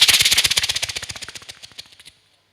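A performer on a comedy stage imitates a fireworks display with his voice, a rapid string of about thirty sharp bursting pops that slows and fades over two seconds before stopping.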